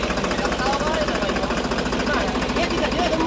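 A tractor stuck in a muddy paddy field strains at full effort, its engine giving a heavy, rapid knocking chug that stays loud and constant throughout.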